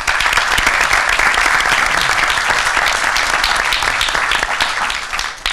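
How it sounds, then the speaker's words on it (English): A sustained round of applause from the audience at a school district board meeting, dense, loud clapping filling the room that tapers off near the end. "I'm going to ask you to give Mr. Egger a round of applause."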